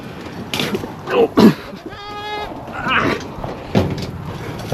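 Goats bleat in a wavering, nasal call midway through, amid people talking and shuffling nearby in a pen at the start of breeding season.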